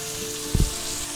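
A ribeye steak sizzles steadily in a frying pan, with one brief dull thump and a spatter burst from the flip midway.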